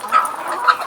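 Poultry chickens on a Nigerian farm clucking close by, a short burst of overlapping bird calls from a flock with no talk.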